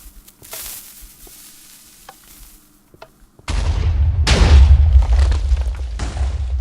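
A Minecraft TNT vertical cannon fires after a quiet lead-in with faint clicks, then loud booming blasts crash and rumble in close succession before settling into a crackling roar.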